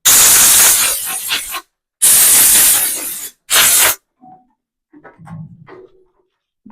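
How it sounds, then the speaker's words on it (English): Compressed air hisses loudly in three close bursts while cleaning a fork piston from a 2026 Yamaha YZ450F during a suspension revalve. The first two blasts are long and the last one is short, followed by quiet handling noises. "I'm going to go ahead and use some compressed air just to blow off this piston"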